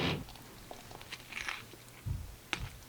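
Bites and chewing of a huge fast-food burger fused from several chains' burgers with all the sauces mixed, a few close, soft crunchy bites and mouth sounds with quiet gaps between them.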